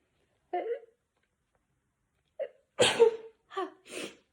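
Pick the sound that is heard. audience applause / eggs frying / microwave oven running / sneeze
sneeze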